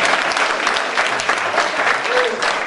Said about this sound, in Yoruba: Ẹ bá pàtẹ́wọ́ fún ìyàwó mi